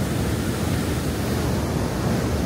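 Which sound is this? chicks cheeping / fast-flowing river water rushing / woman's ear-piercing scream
fast-flowing river water rushing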